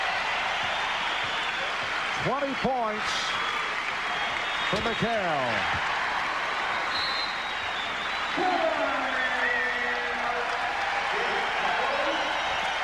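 Boston Garden crowd noise during a 1992 Bulls at Celtics game, reacting to Kevin McHale, a constant distant roar under a commentator's voice with a brief swell of applause.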